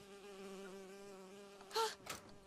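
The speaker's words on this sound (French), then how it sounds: "Oh, une abeille. J'ai horreur de ça." A bee buzzes in the video game BioShock Infinite, a steady close drone with a tonal hum, followed by a couple of sharp bursts of sound near the end.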